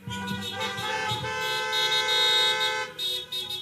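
Car horns honk at a drive-in church service, with several overlapping, sustained toots blaring close by for a few seconds.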